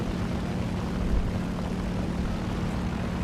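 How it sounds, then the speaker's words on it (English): Propeller biplane droning steadily overhead in a naval combat video game, a continuous low engine hum that holds level throughout with no other sounds on top. "That's a biplane, that's not much of a threat."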